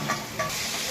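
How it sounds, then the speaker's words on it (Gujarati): Mixed vegetables sizzle in hot oil as they are tempered for cabbage dry manchurian, a steady close hiss with two brief louder stirring bursts. "આજે આપણે વેજીટેબલથી ભરપૂર એવું મંચુરિયનનો વઘાર કરી રહ્યા છીએ"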